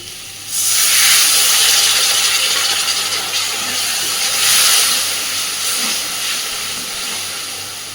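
Water poured into a hot pan of frying rice and spices, bursting into a loud, sustained steamy hiss that swells, eases slightly and surges again, with no voices.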